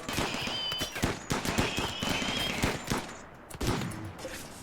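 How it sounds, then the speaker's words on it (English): Turrets explode in the RimWorld video game as a rapid crackling string of sharp blasts and pops, dense at first then thinning out, loud and close with no talk. "More turrets blown up."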